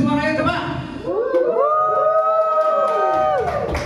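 Seminar audience in Jambi, the Subes support team, cheering loudly on request: a burst of rising whoops and sustained shouting voices from a group, close and filling the room.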